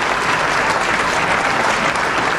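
An audience at an airsoft event applauds, dense continuous clapping filling the short moment with no voices standing out.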